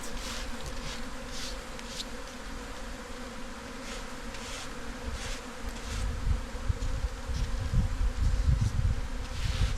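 A strong swarm of African bees hums in a dense, continuous buzz close by, steady and swelling somewhat louder toward the end, with no voices.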